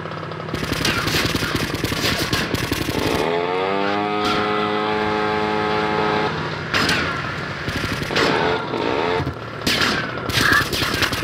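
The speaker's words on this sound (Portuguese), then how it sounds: "Eu vou dar uns tiros aqui." Gunfire in the GTA Vice City video game crackles in rapid bursts, mixed with a droning engine or siren tone in the middle stretch and sharp shots near the end.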